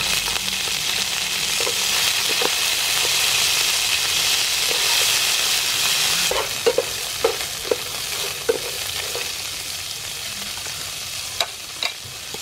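Young green pepper sizzles loudly in a hot pan of mussel stir fry, a steady frying hiss broken by scattered clicks and scrapes of stirring.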